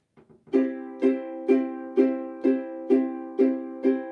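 A ukulele strums a swing pattern with double downstrokes, eight evenly spaced accented chords after a few soft lead-in strokes, close and clear with no voices.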